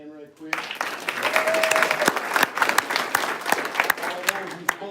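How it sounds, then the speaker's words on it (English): Crowd at an Orange County Board of Education meeting claps for the panel, a full, sustained round of applause with crisp close claps and scattered voices and whoops underneath. "give them a big hand right quick"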